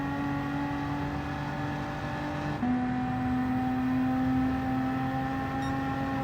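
A racing car in Gran Turismo 7 on PS5 holds a steady, droning engine note at high revs, stepping up sharply in pitch once as it shifts, with no talking.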